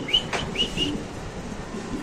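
Pigeons offered for sale at a bird market in Bangladesh give a few short, high chirps and whistles over low background noise, with no talking.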